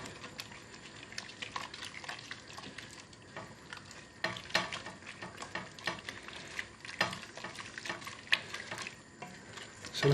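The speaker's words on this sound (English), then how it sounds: "give it a good stir" Spiced lentils sizzling and frying in a pan for South Indian dahl, with turmeric, while a spoon stirs them in scraping, clicking strokes, close and steady throughout.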